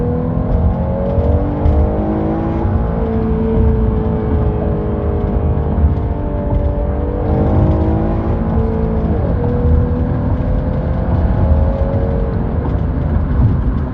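A 2014 Jeep Cherokee accelerating hard in first gear, its engine droning loud and close with a steadily rising whine that dips briefly near the end and climbs again.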